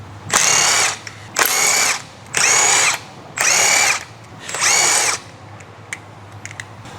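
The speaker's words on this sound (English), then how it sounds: "Using the large impact wrench with the 19mm deep socket," A large impact wrench with a 19mm deep socket removes wheel lug bolts on a 2015-2018 Ford Fusion, firing five loud, close hammering bursts of about a second each. The bursts are separated by short pauses.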